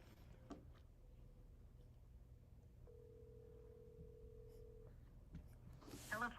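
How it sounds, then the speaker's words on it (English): Outgoing phone call ringback on a live seller call, heard as a single faint, steady tone lasting about two seconds over low background hum, with a brief rustle near the end. "One in the chat if you can hear the ringing"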